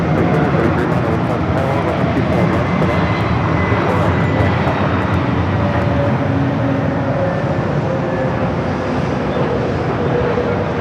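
American Airlines jet on approach at Los Angeles LAX airport, a loud, steady engine roar filling the whole stretch with no break.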